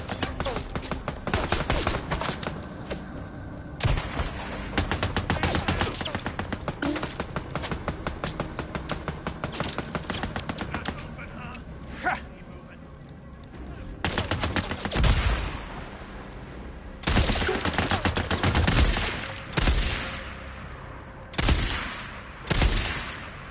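Sniper and automatic gunfire in the video game Days Gone, loud dense bursts and rattling volleys with brief gaps and several sharp single shots near the end.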